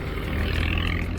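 A truck's exhaust and engine rumble low and steady on a busy street in Chiang Mai's old town, a continuous broadband roar with traffic noise and no clear pass-by peak.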